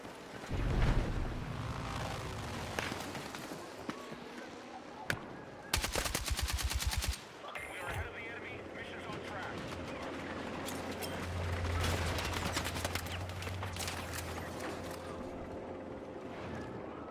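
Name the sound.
gunfire in a video game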